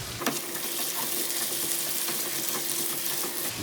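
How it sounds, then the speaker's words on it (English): Potatoes for breakfast burritos fry in a pan with a constant loud hiss and sizzle, broken by a few scraping stirs of a spatula close up. "Let's get these potatoes stirred up a little bit more."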